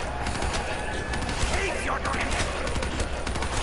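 Dingo light machine gun in Black Ops 3, upgraded, firing in rapid bursts over a dense, noisy game mix with steady loud sustained texture.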